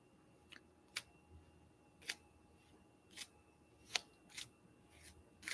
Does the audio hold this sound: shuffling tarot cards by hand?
yes